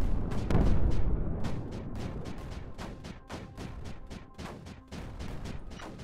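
Mortars firing in the strategy game Creeper World 4 sound as a rapid series of sharp booms and blasts, a heavy rumble early on followed by many quick, evenly spaced reports, close and loud with no talk.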